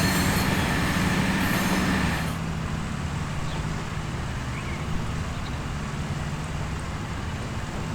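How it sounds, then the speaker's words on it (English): A freight train in the video game Transport Fever 2 rumbles steadily past, a broad continuous roar with rolling wheel noise, louder at first and then settling into a constant drone. "gonna wait till our freight train passes through."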